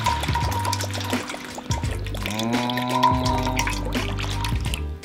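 Rice vinegar poured into a sauce, with a close trickling, glugging stream that rises in pitch as the container fills, plus a few light drips and clinks.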